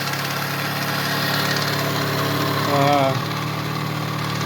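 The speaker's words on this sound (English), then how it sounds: "I'm just letting it warm up and break into rings" A Yamaha DT175 motorcycle engine idles steadily while warming up, a close, continuous mechanical drone with a brief swell near the end.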